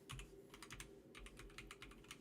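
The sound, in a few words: typing on a computer keyboard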